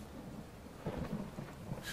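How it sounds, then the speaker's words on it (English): A thunderstorm rumbles low and steady under a wash of falling rain, swelling midway with a deeper roll of thunder, with no voices present. "a thunderstorm came crashing down on them."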